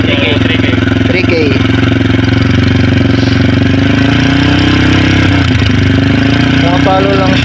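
A motorcycle fitted with an aftermarket Akrapovic muffler holds steady around 3,000 RPM, a loud continuous engine drone with harmonic exhaust tone throughout, while someone talks over it.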